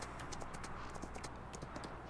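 Horse hooves clip-clop at a steady walking rhythm in the farming video game Farming Simulator 19, moderately close and alone, with no voices over them.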